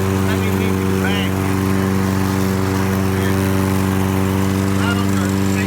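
A Lawn-Boy lawn mower engine runs steadily and loudly throughout, a continuous close droning hum with no pauses.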